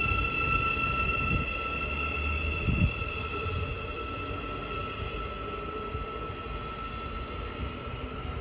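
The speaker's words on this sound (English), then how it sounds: "Now departing is the 1508 Thameslink service from Brighton to Cambridge" A Thameslink train pulls out of Hitchin station on the East Coast Main Line, a steady low rumble of wheels and traction with a brief thump, accompanied by persistent high electrical whine, continuous and moderately near.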